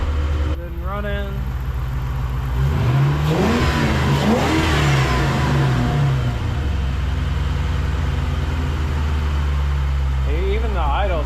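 A 1998 Ford Mustang Cobra engine starts up and revs hard, pitch sweeping up and down through several loud blips before settling toward a steady idle, close and dominant throughout.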